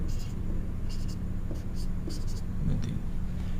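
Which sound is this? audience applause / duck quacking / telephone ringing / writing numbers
writing numbers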